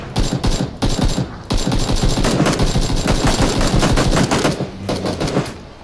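Rapid automatic gunfire from the PUBG battle-royale game fires in long, loud, dense bursts with brief gaps, near and dominant, without any talk over it.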